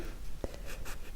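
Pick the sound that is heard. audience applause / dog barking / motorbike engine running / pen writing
pen writing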